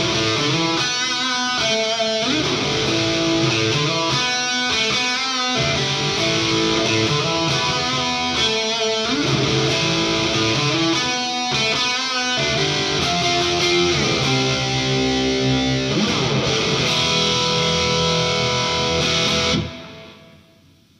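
Heavily distorted electric guitar through a Headfirst Cali 50-watt tube amp's second channel plays driving riffs and chords, bright and aggressive, continuous for about twenty seconds before cutting off.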